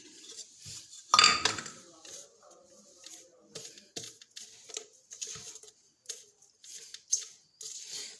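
Utensil stirring nahari masala spice mix in a pan, with irregular scraping and clinking strokes, one louder knock near the start, then lighter repeated scrapes.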